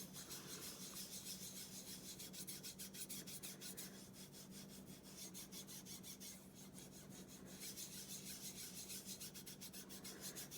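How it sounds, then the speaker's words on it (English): A fingertip lightly rubs powder through a fine screen onto polymer clay, making a faint, continuous scratchy rasp with steady back-and-forth texture and no voices. "Now I'm just going to take my finger and lightly move it around on the screen"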